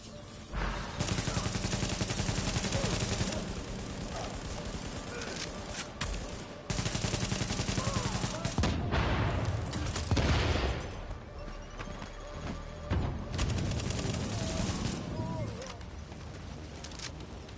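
Sustained automatic gunfire rattles through a firefight in the video game The Division, broken by short pauses, with a heavier grenade blast landing near the middle amid the continuing shots.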